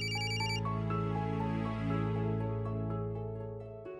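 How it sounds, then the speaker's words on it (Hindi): Telephone ringtone in a domestic scene from a Hindi TV serial, a bright electronic melody of repeating tones rising and falling clearly over a low steady hum, with no voices. "देखा मम्मी, हमने कहा था ना, उनका फोन आ गया। अरे पहले फोन तो उठा।"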